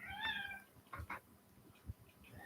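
A cat gives one clear, drawn-out meow up close, followed by a few soft rustles and thumps in an otherwise quiet room.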